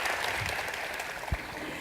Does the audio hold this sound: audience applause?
yes